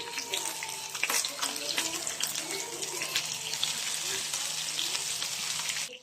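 Pork pieces sizzle and crackle in a pan as they fry to golden brown for pork adobo, a dense steady spatter with occasional sharper pops, close and continuous throughout.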